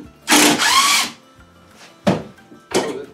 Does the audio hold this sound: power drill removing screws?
yes